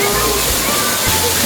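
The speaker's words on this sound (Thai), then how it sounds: "ดูสิถ้าให้แม่บีไปอยู่ใต้น้ำตกนั้นคงแบบว่ามันน่าดูเลย" Erawan Falls in Kanchanaburi roars as a dense, steady wash of falling water, loud and close, with sloshing splashes and no clear talk over it.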